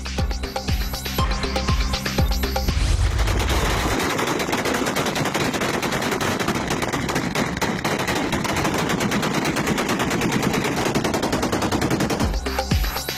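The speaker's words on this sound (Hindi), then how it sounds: "बल्दियाती इलेक्शन में जीत की खुशी, गोलियों की तड़तड़ाहट।" Rapid bursts of celebratory gunfire from party workers marking a local election win, dense automatic volleys crackling loud and continuous with no talk.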